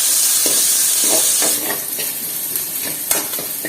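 Shallots, green chillies and curry leaves sauté in hot oil in a pan, with a bright, steady sizzle and the soft scrape and tap of stirring close by.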